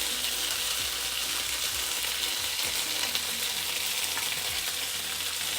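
Vrat-style dry potato sabzi garnished with fresh coriander, stirred and mixed in a pan, a steady loud sizzle of frying running throughout with soft scraping stirs, no voices.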